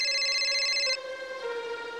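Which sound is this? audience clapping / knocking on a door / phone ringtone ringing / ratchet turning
phone ringtone ringing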